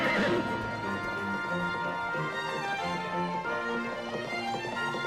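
A cartoon horse whinnies loudly, followed by a steady clip-clop of galloping hooves beneath bright, musical, tonal effects, with no speech.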